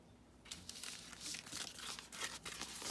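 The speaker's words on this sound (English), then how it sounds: "Okay, let's get the tape off here." Tape peeled off paper in a mixed media tissue paper craft, heard close and quiet as a crackly, crinkling rip lasting a couple of seconds after a brief pause.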